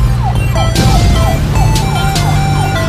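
Cartoon police car siren in a children's colour-learning animation, a steady repeating wail with sweeping tones, loud and continuous over bright music and chimes.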